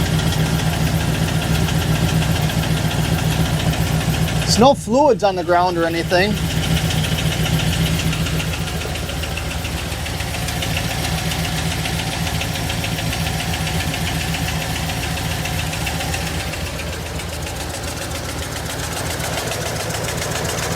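A 2016 Toyota Tundra TRD Pro V8 idles steadily with a low, uneven knock and misfire running through it from the bottom end, heard close up under a voice.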